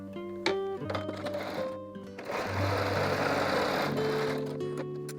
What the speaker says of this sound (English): let me go ahead and sew it the same way, scant 1/4 inch